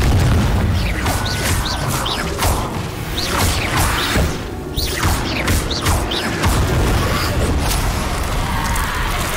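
Hogwarts Legacy combat with repeated Confringo fire-spell blasts: loud booming explosions, whooshing projectiles and crashing impacts in a dense, continuous barrage, with brief spoken bursts mixed in.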